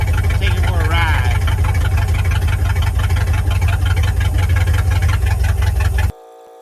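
A Ford F600 truck engine idles while warming up after sitting for 20 years, a steady low rumble close by with a brief voice over it, cutting off abruptly near the end.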